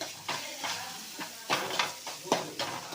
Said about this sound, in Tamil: கொஞ்சம் அடுப்பை வச்சு ஃப்ரை பண்ணிக்கணும்